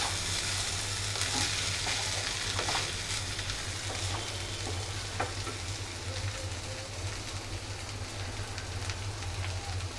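Keema pulao being stirred in a pan on the flame after coriander leaves go in, a continuous soft sizzle with faint scraping stir strokes, close, steady and low in level, with no voices.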